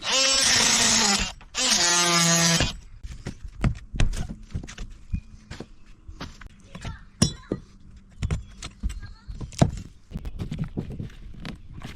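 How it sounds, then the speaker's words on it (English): Two sustained, loud power-tool whines cut out rotten screws in a wooden sailboat, then scattered knocks, clinks and rattles of debris and handling follow at a moderate level. "Just cut out these rotten screws."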